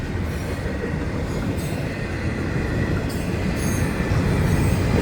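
An FEC Railway train rumbles steadily past at close range, dense low roar of wheels on rails with faint squeals riding above it, constant and loud throughout.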